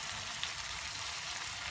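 Shrimp fry in oil over a wood-fired stove while making Mì Quảng, giving a steady, dense crackling sizzle throughout with no voices.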